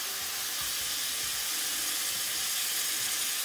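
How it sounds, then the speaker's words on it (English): Spices frying in a pan for a British Indian restaurant-style beef pasanda give off a soft, steady hiss and sizzle, faint and close, with no voices. "Fry off about 35 seconds."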